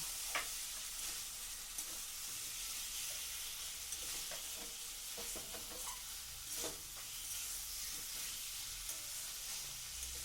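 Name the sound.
potatoes being sautéed in a covered pan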